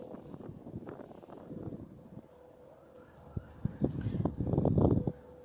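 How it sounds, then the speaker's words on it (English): Outdoor wind at an RV site buffets the microphone in faint, gusty rumbles, swelling louder toward the end, with light rustling and scattered knocks. "Beautiful weather despite the windy conditions we're having."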